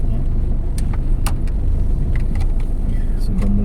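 Cars crawl through a heavy traffic jam just past the Bocimi toll road exit, with a steady close rumble of engines and road noise and a few faint clicks and knocks on top.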